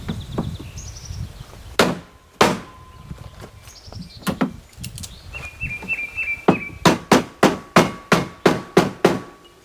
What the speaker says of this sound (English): You've got to whack them with a hammer.